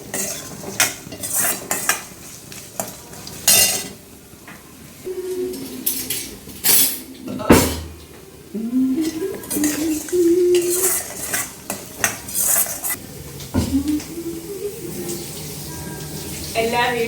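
Food is stirred in a metal cooking pot in a home kitchen, with scraping and clinking of a utensil against the pot, some running water and dish clatter, and a voice talking at times over it.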